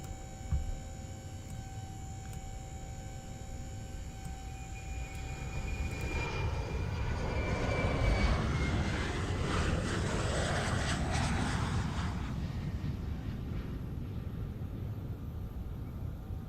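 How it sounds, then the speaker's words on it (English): A Boeing 737-8 auxiliary power unit spools up in Microsoft Flight Simulator 2020, a steady engine hum and whine that swells and rises midway, then holds at a constant drone with no talking. "let's listen to the APU spool up"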